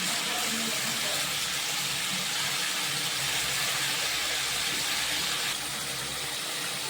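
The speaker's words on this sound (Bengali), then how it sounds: "এবার আমি জল ঢেলে দিলাম।" Water poured into cooked-down tomato masala for a rohu fish roe fritter curry, a steady, loud rushing hiss of liquid meeting the hot pan that runs unbroken and eases slightly near the end, with no voices.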